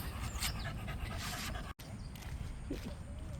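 A dog pants quickly and steadily close by, with faint outdoor background noise, in South Korea.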